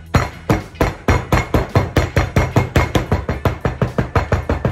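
Rapid, regular thumping taps repeat steadily, a dense series of sharp knocks as a ham and bacon meat mixture is tamped into a pan, close and fairly loud.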